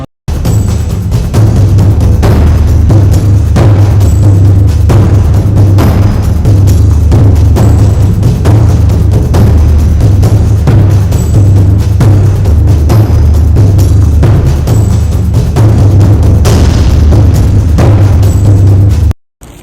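Gunfire at a shooting range: a steady run of loud, booming shots with heavy low-end rumble, closely spaced and overlapping for the whole stretch, with no clear voices.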